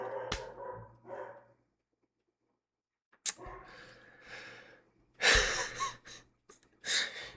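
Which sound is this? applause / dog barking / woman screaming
dog barking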